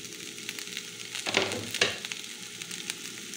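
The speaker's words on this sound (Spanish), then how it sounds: "le puse poquito aceite y voy a freír todo" Food fries in a little oil in a pan, a soft, steady sizzle with two louder bursts of crackle and scraping near the middle, no voices.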